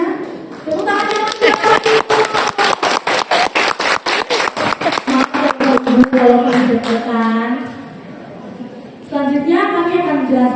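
Rhythmic group clapping at a school performance of a traditional Javanese wedding ceremony, a steady run of sharp even beats that stops partway, with voices and singing-like speech continuing around and after it.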